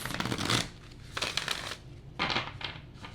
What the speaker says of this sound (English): shuffle once, cut 3 times